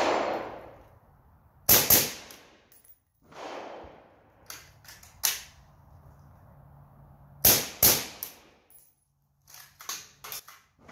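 A suppressed Zastava M90 rifle fires .223 ammunition on the higher gas setting: sharp, clipped reports come singly and in short bursts with quiet gaps, fairly close, with no talking.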